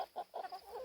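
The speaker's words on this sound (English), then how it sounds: "We have about 20 chickens here." Chickens on a farm flock of about twenty cluck in a few short, close bursts, with no talking.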